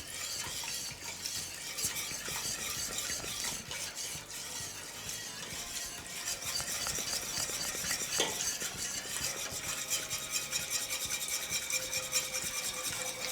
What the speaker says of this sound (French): Donc là, nous mélangeons pour qu'il fasse une texture homogène.